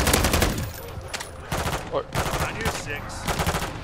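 Rapid automatic gunfire from the Modern Warfare 3 Zombies video game, dense bursts of shots throughout, loud and close, with players talking over the shooting.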